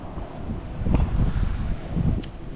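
Gusty wind buffets the microphone on a deserted Caribbean island, a low, rough rumble that swells and eases over a couple of seconds with no talking.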